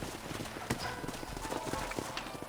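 Horse hooves clip-clop in a quick, steady rhythm in the video game Red Dead Redemption, fairly close, with a faint voice underneath.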